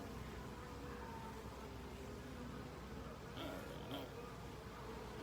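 Honeybees hum around a hive frame held up during an inspection. The buzzing is a faint, continuous drone, and a couple of brief passes swell slightly nearer.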